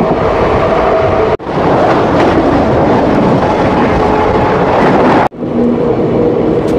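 The 22387 Black Diamond Express runs past Galsi station, a loud continuous rumble of wheels and carriages heard from on board, broken by two sharp momentary dropouts before the roar resumes.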